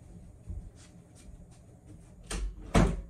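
A door thuds shut with a solid knock, followed by a second heavier bang, over a quiet room background.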